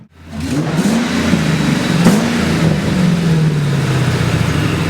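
A supercharged 4.6-liter V8 in a Saleen S281 revs hard up close, its deep roar climbing and holding steady, loud and continuous with no voices.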